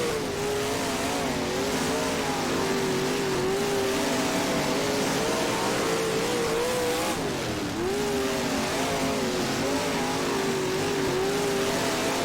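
Big block race cars roar around an oval track in the rFactor sim at Lawrenceburg, a steady loud engine drone with wavering pitch as the cars work through the turns, a brief dip midway before the howl resumes.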